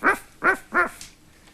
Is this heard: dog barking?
yes